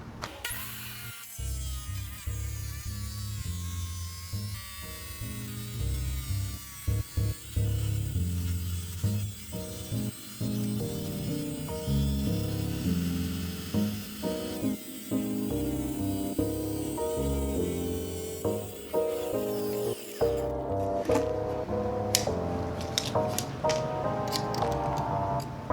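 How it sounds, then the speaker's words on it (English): A Dewalt wet tile saw, the D24000 or D36000, cuts through large-format tile with a steady loud motor drone and grinding that runs for about twenty seconds, then ends with a few scattered clatters. "And we now make our cut."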